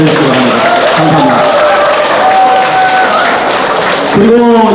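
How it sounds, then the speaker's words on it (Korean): Crowd applause fills a subway extension test-ride ceremony in Dalseong, Daegu, a steady broadband roar of many hands with voices and tonal sounds rising through it, swelling again near the end. "여러분 다 같이 자축하는 의미에서 큰 박수, 서로 격려의 박수 한번 보내주시기 바랍니다."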